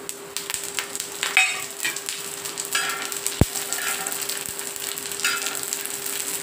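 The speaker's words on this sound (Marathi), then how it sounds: "काळे नाही करायचे धने, थोडेसे असे लालसर करून घ्यायचे." Coriander seeds and spices after bay leaf fry in a pan for a village-style green masala mutton rassa, giving a steady close sizzle with scattered crackles and one sharp click midway.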